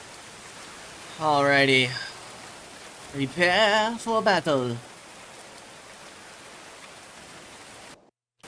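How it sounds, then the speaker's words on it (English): Steady rain falls throughout a scene in the medieval colony-building game Going Medieval, a soft continuous hiss beneath someone speaking briefly in two bursts, ending in a sudden dropout. "We're gonna be fighting in the rain."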